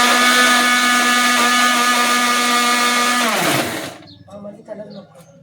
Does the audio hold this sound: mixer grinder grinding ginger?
yes